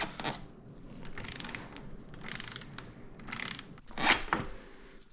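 A bolt is worked out of the bottom of the shock shaft on a KTM 250XCF dirt bike, with a ratchet wrench clicking in short repeated bursts of metallic ratcheting, close and moderately loud, no talk.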